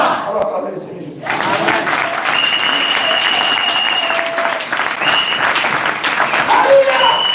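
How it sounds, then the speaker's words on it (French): Church audience at a gospel service in Dakar bursting into loud applause after a brief quieter moment, clapping dense and close with shouts and cries of praise mixed in. "Alors acclamez le Seigneur Jésus."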